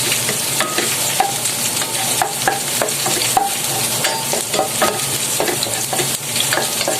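Ginger and onion sautéing in a pan after browned garlic, a loud dense sizzle with constant crackling and the scrape of stirring, close and steady throughout.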